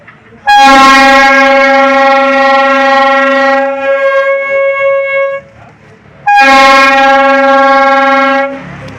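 A toy flute whistle set to its first gear, the mail train setting, mimics a train horn with a loud sustained harmonic toot, a shorter second tone after it, and a final long blast; no one speaks.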